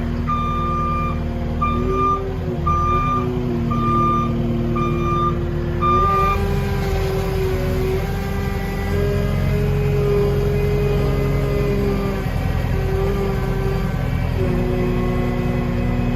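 Skid steer backing off a trailer on a cold morning, its reversing alarm beeping in a regular pulse over a loud, steady diesel engine drone that carries on after the beeps stop.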